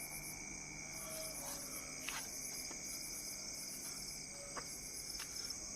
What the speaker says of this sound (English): This is all jungle noise again.